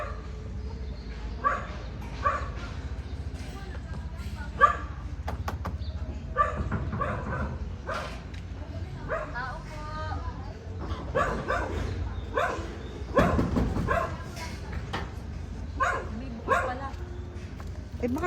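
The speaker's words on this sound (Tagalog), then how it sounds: "Ay, may aso." A dog barks and yips at a construction site, short repeated barks with a whimper or two, fairly close, mixed in with people talking throughout.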